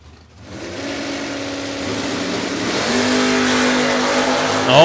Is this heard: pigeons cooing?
no